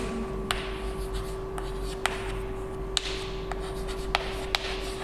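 Handwriting during a math lesson, heard as a faint, steady scratching with a few soft taps over a constant electrical hum.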